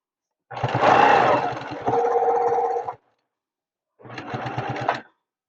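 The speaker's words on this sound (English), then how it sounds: "And so we're going to back tack." A sewing machine back tacking through a quilted fabric bowl cozy with batting, running in two loud bursts of whirring stitching separated by a brief pause, with no talk over it.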